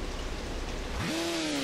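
Heavy rain in the rally video game Rally Championship 2000 hisses as a dense, steady wash, joined partway through by a rising engine drone at night.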